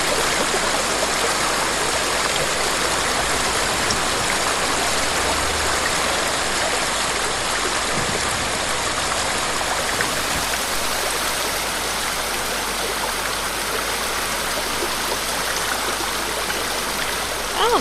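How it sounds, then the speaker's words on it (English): Loud flowing water fills the grounds of Springfall Shrine in Ghost of Tsushima, a dense and unbroken stream-like rush that holds even throughout, with nothing else over it. "Ah, the water is loud."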